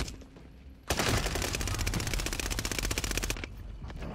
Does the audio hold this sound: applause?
no